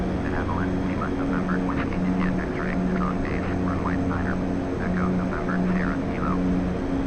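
Steady drone of a Widerøe Twin Otter turboprop in flight over Norway in a flight simulator, with a continuous low engine hum and tonal harmonics, while a person talks over it.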